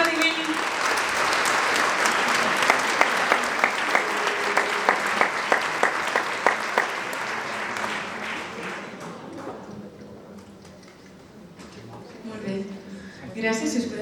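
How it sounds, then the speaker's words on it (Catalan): A crowd at a town fair opening speech applauds loudly for several seconds, with a few sharper rhythmic claps, then the clapping fades and a voice speaks briefly. "Ara sí, un fort aplaudiment."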